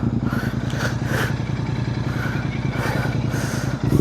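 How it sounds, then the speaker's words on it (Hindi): A Royal Enfield motorcycle on an endurance ride to Agra runs close by with a loud, steady thumping engine pulse and some rattling clatter, no talk over it. "बाइक स्टार्ट है"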